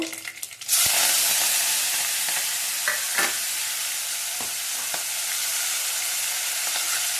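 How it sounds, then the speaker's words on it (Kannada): Mustard seeds spluttering in hot oil for tempering a kashi soppu haalu saaru, a steady loud sizzle with scattered sharp pops after a brief scrape at the start, close up and without speech. "ನೋಡಿ, ಸಾಸಿವೆ ಸಿಡಿತಾ ಇದೆ."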